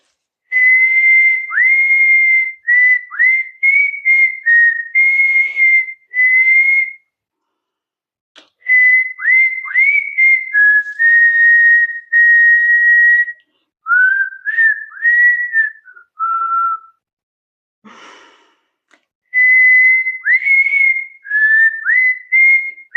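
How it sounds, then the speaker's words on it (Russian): A person whistles a melodic tune alone in clear, bright phrases with short pauses between, loud and close, with rising slides and trills. "Поэтому свистеть очень полезно."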